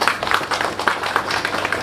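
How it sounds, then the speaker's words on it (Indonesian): A church congregation applauds for Jesus at a service, a loud, steady crowd clapping that fills the short moment from start to finish. "Tepuk tangan buat Tuhan Yesus."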